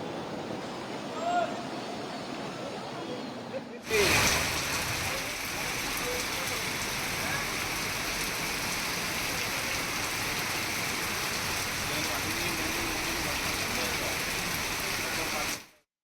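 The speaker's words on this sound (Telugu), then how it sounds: "అనేక ప్రాంతాల్లో భారీగా వర్షం కురుస్తోంది" Heavy rain pours over Hyderabad city in a dense, steady hiss. After a short quieter stretch at the start, it runs loud and unbroken until an abrupt cut at the end, with faint traffic and no talk.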